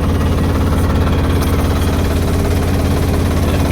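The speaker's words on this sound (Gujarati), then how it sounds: "ટ્રેક્ટરની સીટ ઉપર ચડી ગયા એટલે ટ્રેક્ટર કરી દીધું ચાલુ" A tractor engine idles nearby on a hot day, a loud, steady low rumble with an even throbbing pulse that runs unbroken throughout.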